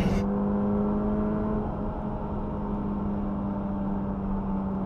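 A Ford Fiesta ST engine drones steadily while driving winding roads, a loud sustained hum with a low constant tone and little change in pitch.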